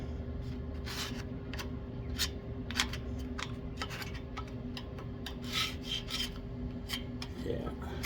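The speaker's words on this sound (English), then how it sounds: "start scraping and cleaning this crap" Rough scraping of built-up crud off an old part, a series of gritty, rasping strokes at close range over a faint steady hum, without any talking.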